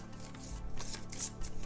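A small deck of game cards is shuffled together by hand, producing a quick series of soft riffling clicks and flutters close by, with no voices.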